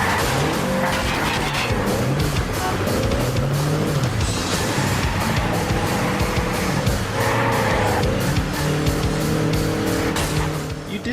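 Car engine revving loudly through a chase in the Wheelman video game on PS3, with repeated tire squeals and skids rising and falling over a dense, continuous roar.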